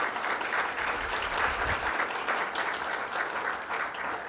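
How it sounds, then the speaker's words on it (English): A conference audience applauds the speakers, a dense, steady round of clapping from a room full of people, sustained and fairly close with no talk over it. "Can we all give them a round of applause, please?"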